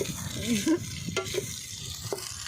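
Freshly picked curry leaves hitting hot oil in a pan, a soft close sizzle with a few light stirring scrapes and clicks over a short stretch.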